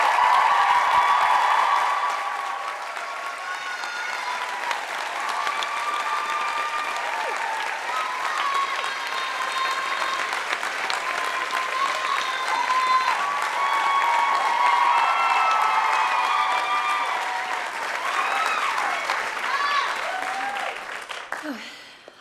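A large audience at a 2012 commencement ceremony claps steadily and loudly, welcoming Claire Calderón to the podium. The dense applause carries on for about twenty seconds with light cheering mixed in, then fades out at the end.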